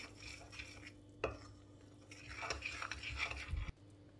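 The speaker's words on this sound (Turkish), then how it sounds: "İlk önce kaşıkla karıştırdım" A spoon stirring flour into soft dough in a bowl, giving scraping, clinking strokes that are quiet and irregular, with one sharper knock partway through.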